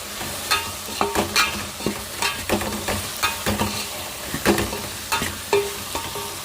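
A spiced vegetable curry with chili powder is stirred in a pan, with a repeated rhythm of loud, close scrapes and clacks over a soft frying sizzle.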